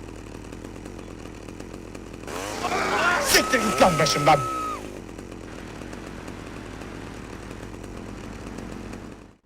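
A chainsaw in GTA Vice City revs up loudly for a couple of seconds and then dies down, while someone speaks over it and keeps talking afterward.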